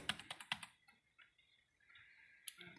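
Keys on a computer keyboard are tapped during a PC refurbishing session from Vista to Windows 10, a quick close cluster of crisp clicks followed by quieter scattered presses and faint background hum.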